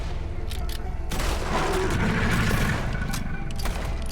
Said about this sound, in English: This is my strongest pistol.